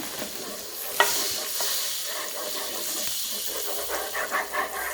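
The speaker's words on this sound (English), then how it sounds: "mix it all in the butter" Ube extract being stirred into melted butter in a pot makes a steady close sizzle and hiss, with one sharp knock of the utensil early on and soft swirling scrapes near the end.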